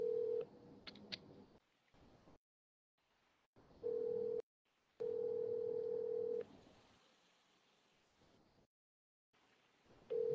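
A phone call to a freight broker rings through on the line as a quiet, repeated electronic ringback tone in short pulses, broken by silences and low line noise, with no pickup.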